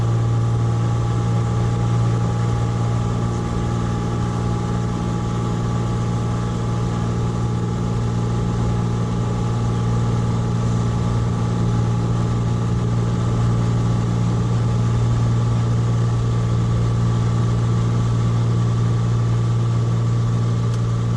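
A Cessna 182S piston engine in cruise flight at 2300 prop RPM and 23 inches manifold pressure makes a loud, steady cabin drone with an unbroken tonal hum throughout and no talk.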